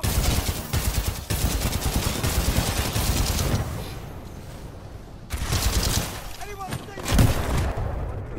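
Dense, continuous enemy gunfire in the video game Titanfall 2: rapid automatic bursts and heavy booms rolling almost nonstop, with a brief lull midway before the firing picks up again, loud and close.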